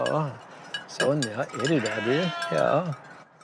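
Goats on a Norwegian farm give several loud, wavering bleats close by, some overlapping, with a faint bell jingling in the background.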